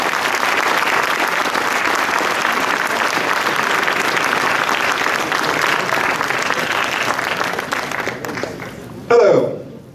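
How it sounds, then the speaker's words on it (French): A hall crowd at a mayor's New Year address claps for the town's technical services staff, loud sustained applause filling nearly ten seconds before fading abruptly, followed by a brief close bump of handling noise. "ils méritent vraiment vos applaudissements pour tout le boulot qu'ils font"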